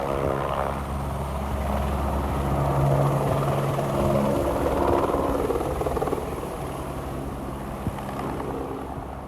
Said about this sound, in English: there is a medevac helicopter